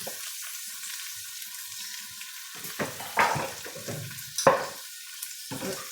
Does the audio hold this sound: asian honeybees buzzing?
no